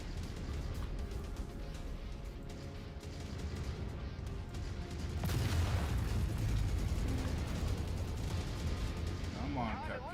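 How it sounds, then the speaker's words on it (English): Heavy weapons fire from battle mechs in MechWarrior 5 Mercenaries, a steady, dense barrage of booming shots that grows louder and harsher midway and keeps pounding to the end, with faint talk mixed in. "Dude, I'm shooting at you."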